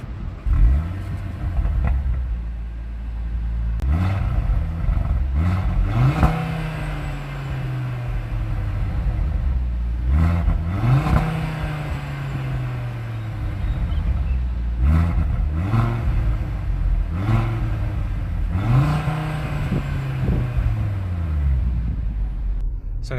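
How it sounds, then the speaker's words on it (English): A 2024 Audi RS3 five-cylinder engine drones and revs repeatedly as it drives, the exhaust note rising and falling through several gear changes, steady and fairly close. "let's take a listen to the exhaust and experience how this thing drives"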